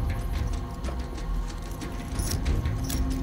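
A ring of keys jangles in a steady metallic rattle with bright clinks, handed over in a tense scene, with low rumbling background noise and no voices during the jingling.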